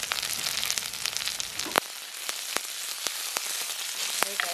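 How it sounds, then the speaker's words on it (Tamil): Onions and curry leaves frying in a pan, a steady close sizzle with scattered crackling pops that continues throughout, with a few brief sharp clicks. "இப்போ வெங்காயம் வதங்கிட்டுது"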